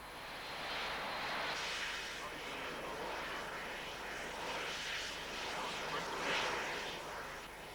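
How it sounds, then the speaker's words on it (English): A loud, steady roar from two jet engines mounted on an old tank chassis, with a broad hissing rush of atomized water blasting into a fire, sustained throughout with little change in level. "a bizarre contraption made from two jet engines mounted on an old tank chassis"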